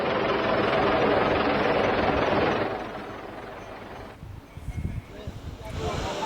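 A coast guard helicopter rescuing two fishermen amid flooding and cyclone weather makes a loud, steady rotor roar with heavy wind rush that fades somewhat toward the end, alone without talk.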